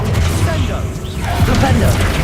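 A Revelio spell cast in Hogwarts Legacy, heard as a loud shimmering, whooshing burst over a dense background of game sound, with a voice talking through it.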